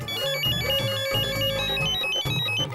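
A loud, melodic electronic phone ringtone plays over a steady beat, repeating its tune with no one talking.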